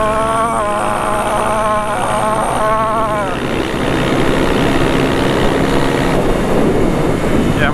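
A dirt bike engine runs close by on an outing with golf carts, a steady loud mechanical drone with a wavering pitched whine early on.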